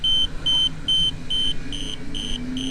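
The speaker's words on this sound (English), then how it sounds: "Now I've just taken one of the sensors off, which set the alarm off on it." A car's tyre pressure monitoring system alarm, set off by a removed sensor, beeps in a steady repeating series of short, loud electronic tones with even gaps, heard close inside the vehicle.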